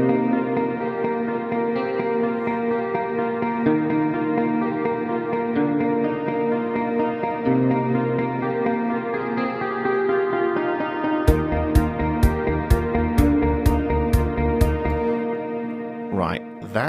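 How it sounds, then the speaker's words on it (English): A reverb effect in Pro Tools: sustained reverberant tones ring out in a smeared wash, followed by a series of regular sharp clicks near the end. "I'm going to record that reverb."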